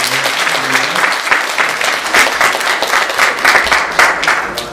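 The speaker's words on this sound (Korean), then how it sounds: "우리 일단은 모두 다 축하한다고 박수를 하겠습니다." A church congregation breaks into loud, steady applause in celebration during a Sunday worship service, dense continuous clapping that fills the room with no talk over it.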